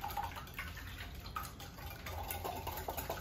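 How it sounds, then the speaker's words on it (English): Eggs whisked in a bowl for pineapple-coconut zucchini bread batter, a steady close-up clatter of quick, rhythmic scraping and clicking strokes with faint liquid sloshing, running the whole time with no talking. "And I'll whisk those up"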